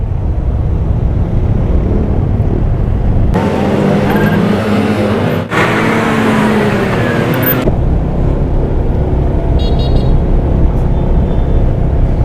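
Loud road traffic on a street, with a constant engine roar and a heavier vehicle surging past near the middle before the steady hum returns.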